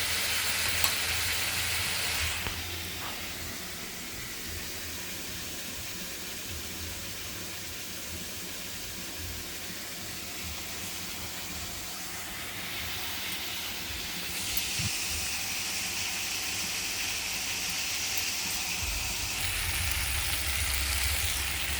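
Spices sizzling and frying in a pan with soybean chunks and potatoes for an egg and soybean curry, a steady loud hiss with brief stirring shifts, no voices.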